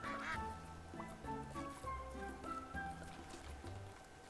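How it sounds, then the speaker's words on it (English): A cartoon duck quacks repeatedly in the spa-management video game Capybara Spa, its bright honking calls layered over a steady, tuneful game soundtrack. "Duck."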